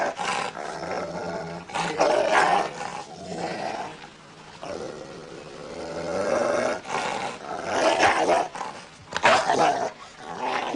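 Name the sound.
dog growling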